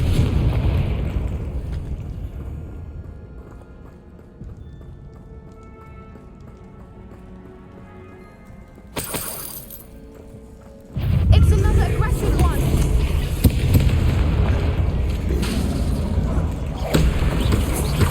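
Spells burst in Hogwarts Legacy gameplay: a sharp magical blast cracks out, followed by a heavy, rumbling explosion that sustains under game noise and a spoken voice.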